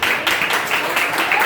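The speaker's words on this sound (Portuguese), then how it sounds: "A igreja está feliz pela vida do Jair, pode aplaudir a Deus pela vida dele" A church congregation applauding during a worship service, dense steady clapping from many hands filling the room at moderate loudness.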